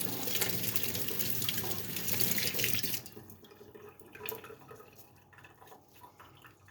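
Tap water runs steadily over jewellery being rinsed after a nickel activator step in gold plating, then cuts off, leaving drips and soft handling sounds.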